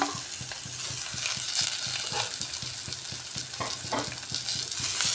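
Eggs fry in a cumin-spiced masala with a steady sizzle while a spoon stirs and scrapes the pan in quick, regular strokes, close and loud.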